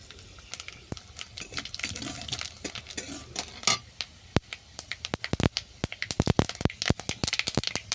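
Dried chillies and black mustard seeds tempering in hot oil in a pan: sharp, close popping and crackling, sparse at first and then growing into rapid, dense spits and snaps.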